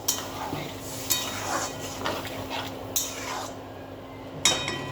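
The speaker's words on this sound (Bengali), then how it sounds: "জল দেওয়া হয়েছে, নেড়ে এবার একটু ঢেকে দেবো।" A spoon stirs a curry of yam stems and jackfruit seeds in a pan after water is added: soft scraping and wet sloshing, broken by a few sharp metal clinks against the pan at irregular intervals, fairly quiet.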